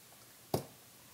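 A single quick click of the F1 key being pressed on a computer keyboard, one faint, close keystroke in an otherwise quiet room.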